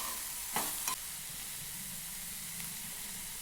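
Food with turmeric and salt being stirred and mixed in a pan, a steady soft hiss of frying with two brief scraping stirs near the start, no voices.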